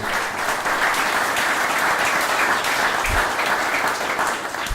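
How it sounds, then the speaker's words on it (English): Sustained audience applause for township and corridor staff, a dense, steady wash of clapping filling the room without pause before tapering slightly at the end. "So a round of applause for our staff, please."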